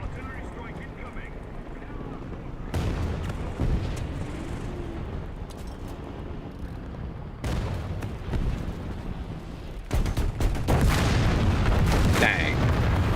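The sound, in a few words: artillery strike explosions in War Thunder video game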